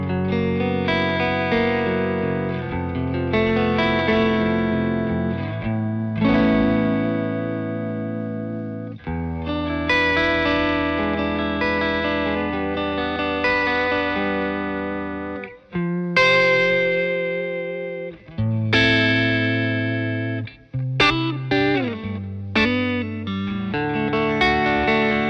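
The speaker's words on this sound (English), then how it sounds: "it's going to give us what sounds a bit more like a chorus effect" Distorted electric guitar chords and single notes through a fuzz pedal with a wobbling, chorus-like warble, played continuously with brief pauses between phrases.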